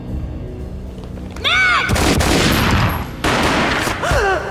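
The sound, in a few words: gunshot in a video game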